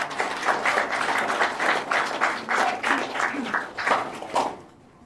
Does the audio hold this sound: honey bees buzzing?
no